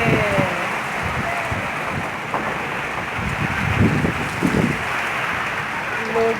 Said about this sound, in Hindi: मौसम गर्मा की पहली बारिश कराची की, जुलाई।